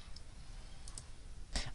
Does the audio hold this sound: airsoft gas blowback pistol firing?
no